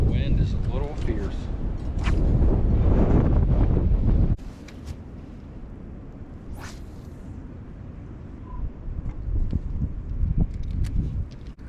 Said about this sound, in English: That wind is a little fierce.